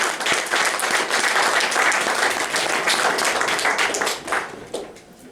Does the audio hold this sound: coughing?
no